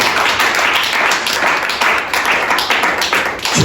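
A church congregation claps and applauds together during a French-language Sunday service, a steady loud wash of many hands lasting the whole stretch with slight swells.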